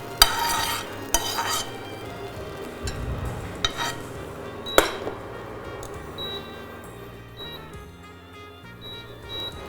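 Chicken liver frying in olive oil in a pan with no seasoning, giving a soft steady sizzle under sharp metallic clinks and scrapes of a utensil stirring and turning the pieces.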